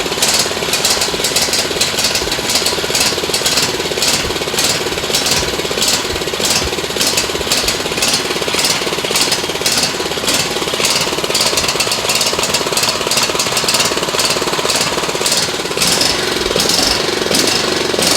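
A Kohler 5400 engine on a Craftsman T210 riding mower, with fuel in the crankcase, runs loud and close with a rough, rapid pulsing chatter that keeps surging unevenly throughout.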